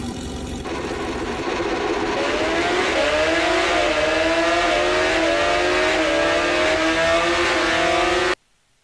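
Loud, continuous engine roar of racing motorcycles in the drag racing game Time Slip Simulator, with rising and falling pitch as they accelerate through gears, steady throughout before cutting off abruptly at the end.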